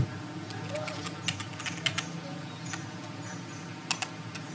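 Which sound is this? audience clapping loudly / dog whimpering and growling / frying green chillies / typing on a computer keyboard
typing on a computer keyboard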